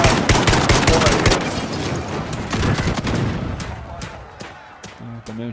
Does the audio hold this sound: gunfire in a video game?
yes